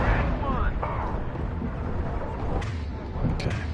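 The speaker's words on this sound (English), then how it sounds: "Firing an impact shot." Impact shot fired in the sci-fi game Mass Effect 2, a heavy booming blast with a rumbling tail that fills the whole stretch over dense battle noise, with a voice speaking briefly near the start.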